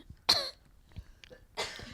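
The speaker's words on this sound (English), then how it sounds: "Cough break." Two sharp, harsh coughs, one near the start and one near the end, with quiet shuffling and small noises between them.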